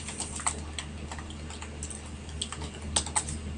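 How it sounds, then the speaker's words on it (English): Someone types on a computer keyboard resting on their lap, a steady run of light, close clicks and taps with a few sharper keystrokes, with no talking. "My keyboard is actually perched on my lap, so every time I go to type, it kind of moves around"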